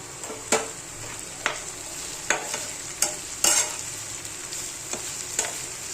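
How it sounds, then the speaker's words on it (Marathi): Dried sukat jawla shrimp frying in hot oil, a steady close sizzle punctuated by sharp spatula scrapes and stirring knocks at irregular intervals, with no talk. "हे सुकट जवळा काय आहे तो चांगला तेलामध्ये फ्राय होऊन द्यायचा आहे"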